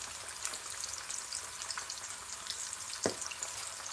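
Potatoes with pork chorizo fry in hot oil in a pan, giving a steady, fairly quiet sizzle with scattered small crackles and one sharper pop near the end, with no talk.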